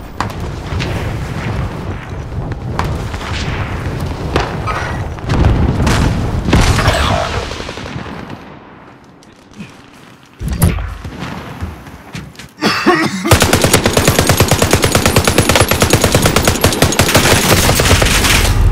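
A Whitley LMG fires in a video game. Heavy booms and scattered shots come first, then a long, loud, sustained burst of rapid automatic fire that runs to the end.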